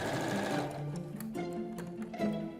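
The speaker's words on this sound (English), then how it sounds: "Just sewing the last few seams together so that I can get on and actually hang these blinds." A sewing machine stitching the seams of hand-printed fabric blinds runs steadily throughout, its whirring motor shifting pitch in short stages as the needle chatters along.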